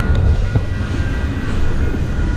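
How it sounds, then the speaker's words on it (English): A CN intermodal freight train approaches on the railway with a steady low rumble and rolling clatter, heard continuously at fairly loud volume for a couple of seconds. "And we got a northbound CN coming in."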